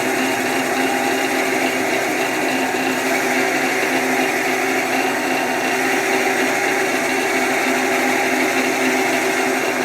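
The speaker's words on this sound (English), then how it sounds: "turning the wood slower and pushing into it slower is better" A wood lathe turns a piece of wood as a tool cuts into it slowly, giving a continuous, loud whirring hum with a steady tonal whine and no breaks.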